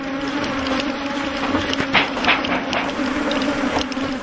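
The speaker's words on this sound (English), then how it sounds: "thousands more bees come out to defend them" Thousands of African honeybees swarm out of opened hives during a honey harvest, filling the air with a loud, continuous, close buzzing drone and scattered wingbeat flickers.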